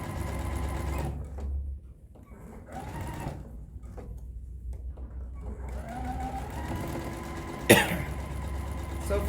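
A sewing machine stitches a line around a fabric drawstring pouch, its motor whirring in steady bursts that pause and restart, with a sharp cough near the end.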